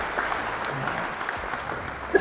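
An applause sound effect played during a guest lecture, steady crowd clapping, fairly loud and continuous, with brief voice sounds over it.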